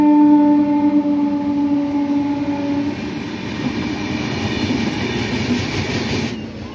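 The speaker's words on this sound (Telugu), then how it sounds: "ట్రైన్ ఏదో వస్తుంది. వ్యాప్ 7 లోకోమోటివ్." Goods train approaching behind a WAP-7 electric locomotive, heard from the guard cabin at the rear: a long loud horn tone at first, then a steady rolling rumble of wagons.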